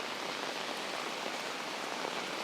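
Heavy rain pours steadily on North Bridge Road, a city street, recorded while walking; a dense, even hiss of drops hitting pavement and surfaces, loud and continuous with no voices.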